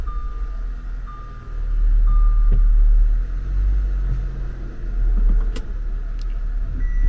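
A car being checked at an auction yard starts up and settles into a steady idle, a loud low rumble that swells and dips, with a faint high electronic tone running through and a few light clicks.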